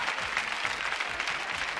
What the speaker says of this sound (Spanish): La ovación para los dos.